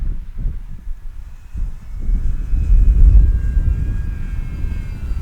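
A small FMS Pilatus radio-controlled model plane's engine drones and swells as it passes, with strong wind rumble buffeting throughout.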